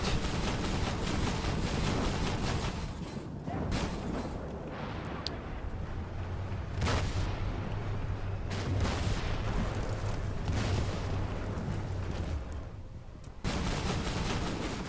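Tank cannons fire in the video game Armored Warfare: several sharp, booming shots and blasts at irregular intervals over continuous battle noise, with no talking.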